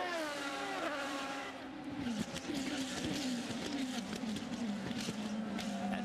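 IndyCar race cars roar and accelerate at the green-flag restart of the 2010 Honda Indy Toronto, engine pitch climbing through gear changes as the field passes, loud and sustained, with faint commentary underneath.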